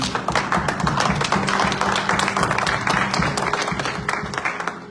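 A congregation at a church service claps together in a dense, steady wave of applause that holds for several seconds before tapering off near the end.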